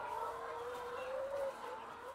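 Chickens cluck and murmur faintly in the distance on a Minnesota family farm, over a steady background noise.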